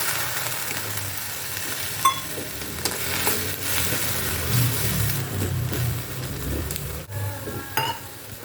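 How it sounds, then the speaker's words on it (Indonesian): Durian flowers stir-fried in a pan with a little added water sizzle steadily while a utensil scrapes and knocks against the pan, with a few sharper clinks, close and moderately loud, no talking. "ditumis dan diberi sedikit air ya, kurang lebih 100 sampai 150 ml air. Oke, diaduk-aduk seperti ini"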